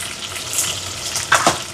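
Small shallots and dried red chilies frying in hot oil give a steady, close sizzle that stays fairly even throughout, with a couple of brief louder scrapes near the end, no speech.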